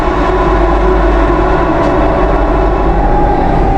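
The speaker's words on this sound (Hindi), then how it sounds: "और अभी हमने चेनाब ब्रिज क्रॉस किया" A Vande Bharat train crossing the Chenab rail bridge between Reasi and Sangaldan in Kashmir, heard as a loud, steady rumble and roar of wheels and motion with no break, and no voices.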